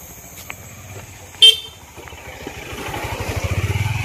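A motorbike engine idles with a pulsing low throb that grows louder and faster toward the end, with a sharp horn-like toot near the middle and light clatter around it.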